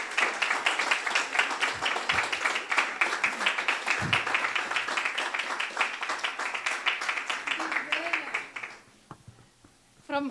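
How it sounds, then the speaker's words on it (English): A roomful of people at a business forum chapter meeting claps for Dr. Vasudha, brisk, even applause lasting about nine seconds before fading out, followed by a brief voice. "Please give a big round of applause to Dr."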